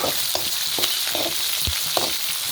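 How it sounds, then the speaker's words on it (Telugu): Green chilli and ginger fry in a pan for a chutney, giving a constant close sizzle with scattered soft taps and scrapes from stirring. "కొంచెము ఫ్రై అవనిద్దామండి"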